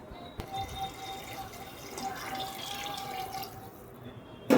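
Water poured from a steel mug into a cooking pot for dal khichdi, a soft, steady trickle and splash close by with no voices, ending in a louder knock.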